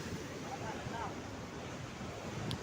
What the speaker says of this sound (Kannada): ಆರಿ ಬರ್ತಾ ಇದೆ ನೀರು.